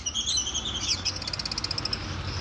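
Pet birds such as lovebirds and pineapple conures chirp busily at a bird shop, a dense, close stream of high twittering and rapid trills with no voices.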